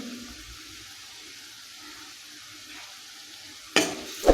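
Chopped onion with ginger-garlic paste and dried coconut sautéing for a spicy potato rassa curry gives a soft, steady sizzle, broken near the end by a sudden loud stir or scrape in the pan.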